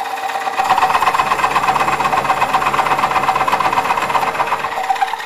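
Woodcut Tools Bowlsaver coring a nest of four bowls from a blank spinning on a wood lathe, a loud steady motor hum with a fast rhythmic buzzing cut running continuously, no voices.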